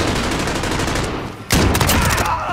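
Gunfire in a first-person shooter on a killhouse map, with an MP5 in play, rolls in rapid, loud automatic bursts, dips briefly, then comes back as a sharp, heavy volley of close shots.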